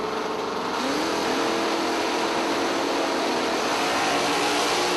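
Super Stock drag racing cars, including an automatic Chevrolet with a 350-cubic-inch engine, launch at an IHRA Tournament of Champions event, giving a loud, steady engine roar with rising revs that fills the scene.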